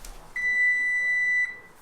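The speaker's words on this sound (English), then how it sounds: "the buzzer's about ready to go off on the second one" An oven timer buzzer sounds a single steady electronic tone lasting just over a second, loud and close in a quiet kitchen while bread bakes, then stops abruptly.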